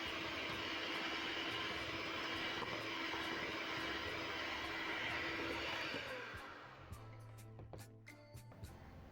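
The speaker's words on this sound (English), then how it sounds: "Then I'm going to increase the speed to high, whip up my butter until it's very nice and fluffy." An electric mixer whips butter, sugar and eggs on high speed for a lemon loaf cake, a steady, loud whirring drone that winds down after about six seconds, followed by scraping clinks against the bowl.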